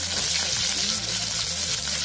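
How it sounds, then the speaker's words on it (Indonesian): Greh besek, a tempeh-like ingredient, sizzles steadily in hot oil while being fried for oseng kroto, a continuous close hiss with low voices murmuring underneath. "Ini kita goreng dulu."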